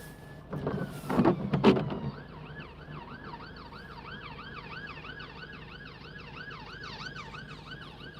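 An unmarked police car's siren on a wet road, wailing in a steady rising-and-falling warble that holds for several seconds over low traffic rumble, after a brief burst of louder noise at the start.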